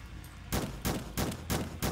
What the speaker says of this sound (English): I forgot I had a shotgun.